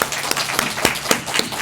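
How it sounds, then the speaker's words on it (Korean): A church congregation claps together in a brief burst of applause for the choir during a dedication service, dense and continuous throughout. "의미로 한번 박수 치겠습니다"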